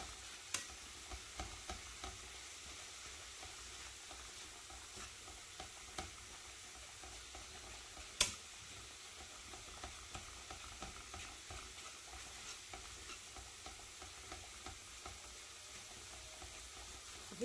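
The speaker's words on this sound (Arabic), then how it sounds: "انا دابا كنحرك فيها على هذا الشكل باش تجيني الكفته ما تبقاش هذيك الكفته مجموعه" Minced meat kefta frying with onion in a pan, stirred over a steady low sizzle with soft repeated scraping taps and one sharper knock, close and without talk.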